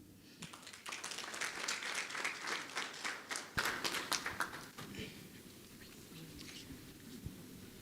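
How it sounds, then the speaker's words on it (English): Audience applause at a town meeting, a dense steady wash of many hands clapping that builds, peaks, then thins to scattered claps, with faint voices murmuring underneath. "Another round of applause."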